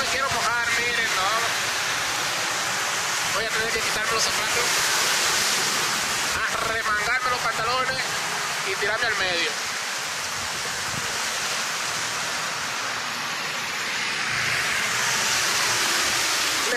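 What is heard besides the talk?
heavy rain falling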